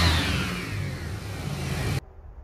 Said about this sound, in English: Why does it sound like the power steering pump's going out every time you give it gas?